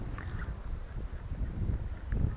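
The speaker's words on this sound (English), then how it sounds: "It's a bit windy here today" Wind gusting steadily outdoors in a churchyard at St Mary's, Pakenham, Suffolk, a continuous low rumble buffeting the microphone and swelling louder toward the end, with no voices.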